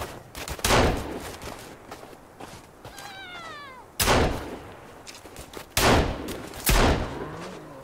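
Sharp gunshots ring out in a forest survival video game, with several loud, isolated blasts spaced a second or more apart. A brief meow-like cry is heard between the shots.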